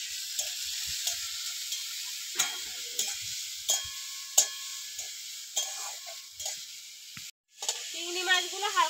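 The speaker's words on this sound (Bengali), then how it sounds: "এবার দিয়ে চিংড়ি মাছগুলো ভেজে নেব।" River prawns frying in a pan make a light, continuous sizzle broken by scattered soft clicks and a few utensil taps, with a brief dropout near the end.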